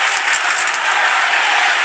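Rugby league crowd at a Canberra Raiders versus Manly Sea Eagles NRL match roaring and applauding, a loud, dense, continuous wash of cheering from a large stadium audience with no break.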